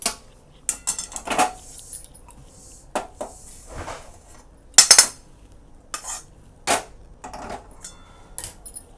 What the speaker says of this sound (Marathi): आता काढून घेते एका ताटामध्ये